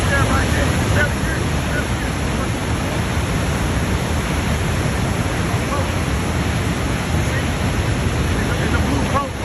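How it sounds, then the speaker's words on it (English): Thundering, rushing water roars loud and continuous at close range, a dense broadband wash that buries everything else, with faint voices under it. "That's the power of the water, thunder water."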